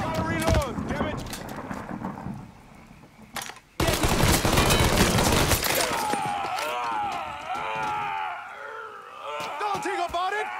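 Rapid bursts of automatic gunfire and single shots ring out in a Mafia III shootout, loud and close, mixed with shouting voices and chaotic crowd noise as the firing gives way to sustained yelling.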